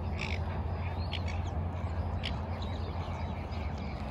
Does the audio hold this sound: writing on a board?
no